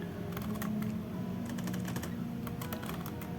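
Close, quiet clicking of keys on a computer keyboard while working in Ubuntu, irregular short bursts of taps over a constant low hum, with no talking.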